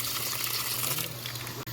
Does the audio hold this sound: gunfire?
no